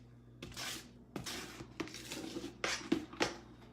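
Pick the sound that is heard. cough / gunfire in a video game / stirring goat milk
stirring goat milk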